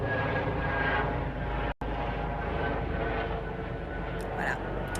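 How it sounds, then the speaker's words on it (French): An airplane drones steadily overhead during an outdoor film shoot, a loud continuous engine roar filling the scene with a brief cut near the middle. "attendez, il y a un avion."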